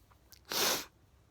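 One sharp, close sneeze bursts out from a person with a cold, brief and loud against a quiet room with no talk.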